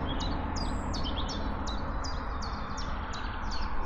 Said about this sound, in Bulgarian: Птичките пеят.